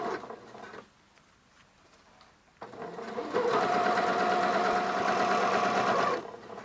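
A sewing machine with an adjustable zipper foot stitches piping cord. There is a short whir, a quiet pause, then a longer loud, steady stitching run close by.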